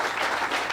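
Dense, roaring applause from a wrestling arena crowd at a 1986 WWF event, a brief, loud, continuous wash of clapping.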